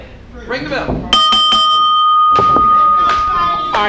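A wrestling ring bell is struck several times in quick succession, bright metallic clangs with a sustained ringing tone, over crowd noise and talk at a televised wrestling show.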